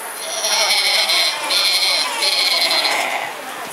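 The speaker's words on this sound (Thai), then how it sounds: "ขณะที่ข่าว นำหญ้ามาให้กับฝูงแกะที่อยู่ในคอกนั่นเอง" Sheep bleat from a pen in a narrated children's tale: three loud, wavering bleats come in quick succession, close and clear.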